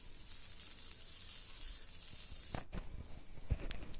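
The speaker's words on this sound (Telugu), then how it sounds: "ఇలా వేసుకొని బటర్ మొత్తం కరిగించుకోవాలి." Butter melts in a heated pan for an egg pizza, giving a soft, even hiss that swells slightly, with a couple of brief knocks or scrapes near the end.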